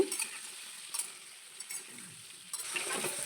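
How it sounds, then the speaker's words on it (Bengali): Potatoes seasoned with salt and turmeric fry in oil, giving a soft continuous sizzle with a few scraping stirring strokes near the start, around one second and near the end. No one speaks. "লবণ এবং হলুদটা দেওয়ার পর খুব ভালো করে মিশিয়ে নিয়ে লাল লাল করে ভেজে নেব।"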